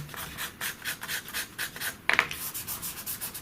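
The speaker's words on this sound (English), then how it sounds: "And that is again rubbed in, and you'll see the change of tone now between the two" Coloured pencil is rubbed back and forth on paper to blend tone in a sunset drawing, a close, rhythmic series of soft scratchy strokes with a sharper scrape near the end.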